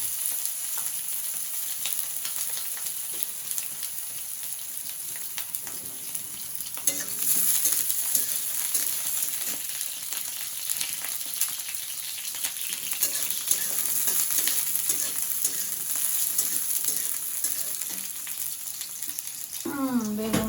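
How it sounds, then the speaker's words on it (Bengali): Brinjal frying in hot oil for a sour curry, a continuous loud sizzle with frequent stirring scrapes and clatter close by, no talking. "বেগুনটা আগে ভেজে নিয়ে তারপরে দিব টমেটো"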